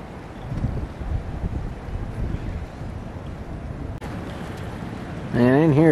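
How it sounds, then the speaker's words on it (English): Strong winter wind in urban woods buffets the microphone in heavy rumbling gusts, steady throughout, with a brief warbling tone at the very end. "It's freaking windy."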